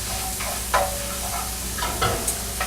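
Mushrooms and chorizo frying in a little olive oil in a pan, a steady close sizzle broken by a few scraping stirs.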